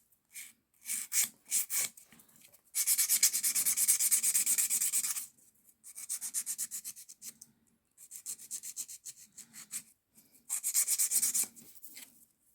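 Hand filing of an acrylic nail while shaping a stiletto tip: several bursts of dry, rasping strokes in quick rhythm, close and fairly loud, separated by short pauses.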